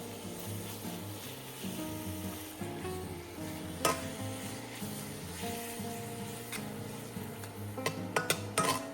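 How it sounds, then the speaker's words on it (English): Thin beef slices stir-frying in a pan over low to medium-low heat give a steady, close sizzle, with a few light clicks and taps of a utensil against the pan and no voices. "Stir-fry the beef slices under low or medium-low heat"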